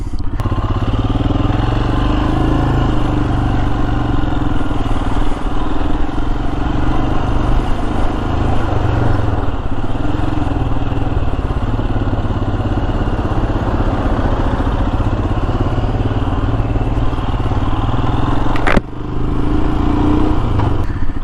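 A motorcycle under way on a commute, its engine droning steadily and loudly with constant road and wind rumble throughout, a brief knock near the end.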